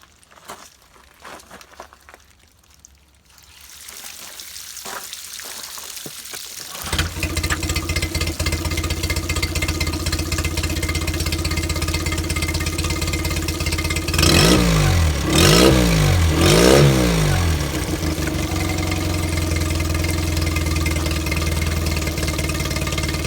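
A 2007 Mercury 8 HP four-stroke outboard, long stored in a barn and beat up, starts after some rattling and settles into a steady close idle, with three quick revs rising and falling midway before it returns to idle.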